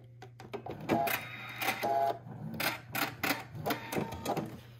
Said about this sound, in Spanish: estamos cosiendo como a un centímetro de costura